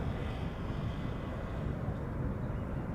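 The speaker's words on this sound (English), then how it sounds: "We're also going to see a Chinese triple in a few moments." A Chinese Boeing 777 airliner at Schiphol Airport gives off a broad, steady jet roar, moderately faint and far off, continuous with no talk.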